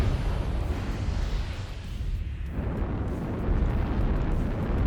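Extreme-range weapon fire in a MechWarrior Online regional finals match, a dense, loud rumbling wash of blasts and roaring noise that fills the whole stretch with a brief dip in the middle, no voices over it.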